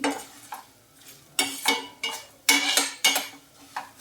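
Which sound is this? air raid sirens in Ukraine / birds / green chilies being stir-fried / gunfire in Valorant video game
green chilies being stir-fried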